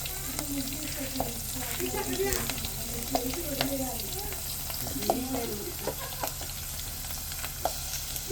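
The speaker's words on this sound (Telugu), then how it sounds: "పోపు అయితే చిటపటలాడుతుంది." Cumin, fenugreek, dried red chillies and garlic fry in hot oil as tempering for a chutney, crackling and popping in quick irregular bursts over a steady sizzle, close by, with faint speech-like tones mixed in.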